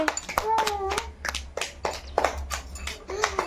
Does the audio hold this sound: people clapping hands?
yes